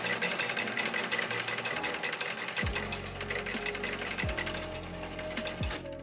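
A rebuilt Hamilton coin changer hopper runs and counts tokens with a continuous whirring, ratcheting motor, with several sharp mechanical clunks recurring roughly every second and a half as coins are dispensed, close and loud.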